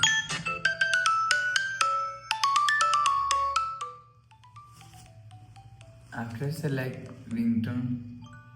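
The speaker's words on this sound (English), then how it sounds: "If you want to change group ringtone, so you will select ringtone from here." A Samsung Galaxy S26 Ultra group ringtone plays as a bright, tonal melody of quick repeated chimes, then fades into softer tones before a voice begins talking over a low background hum.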